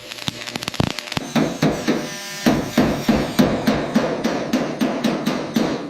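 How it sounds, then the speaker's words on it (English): Steel body panels of a Porsche being restored in a jungle setting are hammered into complex shapes, with loud, close metallic blows falling in a steady, evenly spaced rhythm after a quick flurry of strikes at the start. "Bending steel to my will."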